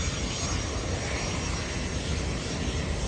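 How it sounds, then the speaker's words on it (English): A Bombardier Challenger 350 business jet sits at Boca Raton Airport waiting to take off, its engines giving a loud, constant, broadband roar with a faint high whine above, with no one speaking. "a Bombardier Challenger 350 at Boca Raton Airport."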